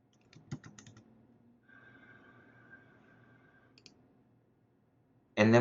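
Computer mouse clicks while adding a transaction member in real estate software: a quick cluster of sharp clicks, a low steady hum, a couple more faint clicks later, then a louder burst at the end, with no one speaking.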